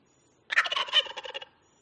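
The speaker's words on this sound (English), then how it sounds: "Turkey." A turkey gobbles in one loud, rapid rattling burst of about a second, standing alone against silence before and after.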